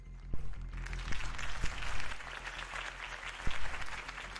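Steady crowd applause in a video game, a dense wash of clapping that holds throughout, with a few low thumps breaking through; fairly quiet overall.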